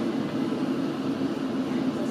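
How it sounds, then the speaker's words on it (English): A London Underground Circle Line train recreated in Minecraft near Westminster, heard as a steady, continuous rumble with a low droning hum, running evenly and fairly loud throughout. "This is a Circle Line train via Tower Hill and Liverpool Street."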